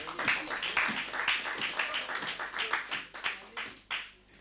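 A church congregation applauding, a steady run of rhythmic hand claps from many people, close and moderately loud, with faint voices mixed in beneath.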